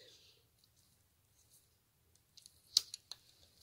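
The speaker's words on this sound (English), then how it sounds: "Now what you guys are going to do is you're just going to cut the line right" Scissors snip fishing line with a couple of sharp, faint clicks near the end of an otherwise quiet stretch, close by.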